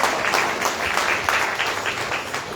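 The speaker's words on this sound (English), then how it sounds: "Give the Lord a big round of applause." Christmas church congregation applauds, a brief steady burst of many hands clapping together, fairly close and full throughout.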